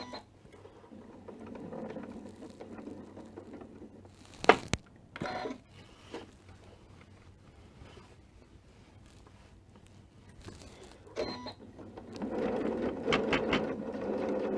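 A sewing machine runs two rows of stitching around a bag pocket: short bursts of rapid mechanical whirring near the middle, then a longer steady run at the end, close and moderately loud.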